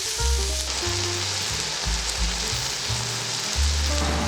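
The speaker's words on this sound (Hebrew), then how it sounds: "השמן חם אפשר להכניס בשר." Beef sirloin strips fry in hot oil for an Uzbek lagman noodle soup, a loud, steady sizzle and crackle close by with low clattering stirring sounds underneath and no voices.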